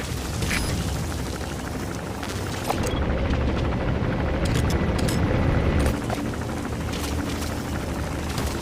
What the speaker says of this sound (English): The chopper will be arriving any minute.